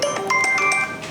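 Electronic phone ringtone: a bright melodic tone sequence of short pulses over a bit more than a second, fairly loud and close, with no talk.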